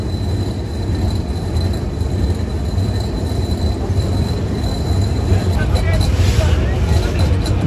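The Ruposhi Bangla Express rolls into Bhanga railway junction, where repair work is under way. A loud, steady rumble of train wheels and carriages runs throughout, with faint squealing near the end and someone talking over it.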